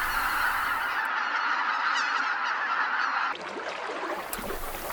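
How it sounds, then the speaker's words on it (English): Aleutian Canada geese at their winter roost on Lake Kejunuma, Japan, honking continuously as a dense overlapping flock chorus, loud and steady throughout. "which serves as the primary roosting site for the Aleutian Canada goose"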